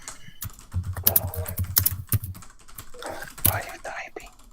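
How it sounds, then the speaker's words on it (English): Rapid clicking keystrokes on a computer keyboard, close and irregular, mixed with soft, murmured talk from people nearby. "Why are you typing?"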